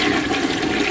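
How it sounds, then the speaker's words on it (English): A toilet flushing in a building with faulty plumbing, a loud continuous rushing gush of water that fills the short moment with no voices over it. "I'm flushing the toilet."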